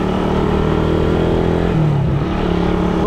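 A stock carbureted Suzuki Raider 150 motorcycle is ridden, its engine droning loud and steady up close with a slight dip and rise in pitch midway, and no one speaking.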